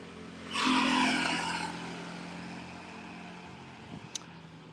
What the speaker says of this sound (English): there's the cars getting on board